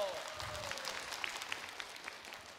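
Applause from a studio audience at a televised Korean village singing contest, a short steady patter of clapping mixed with crowd murmur.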